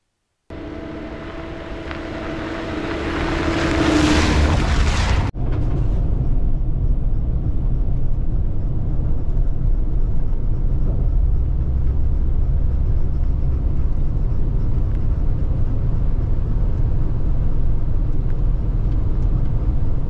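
A car driving while its battery charges, heard as a steady low road rumble and engine drone from inside the cabin, following a brief rising whine and a sharp click.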